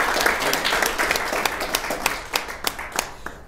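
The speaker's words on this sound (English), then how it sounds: "So let's give them a big round of applause." An audience at a YouTube bootcamp session gives a round of applause, starting as a dense roar of clapping and thinning into fewer, distinct, sharp hand claps toward the end.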